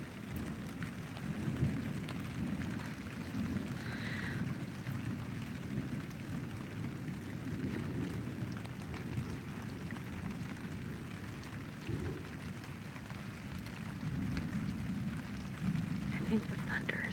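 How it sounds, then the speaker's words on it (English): Rain falls steadily through a thunderstorm while low thunder rumbles on and off underneath, with people talking over the storm noise throughout. "I think the thunder is like some of the best part of it."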